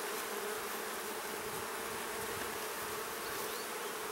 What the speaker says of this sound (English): Try to get rid of all the bees up here, because they'll become trapped once you put the lid on.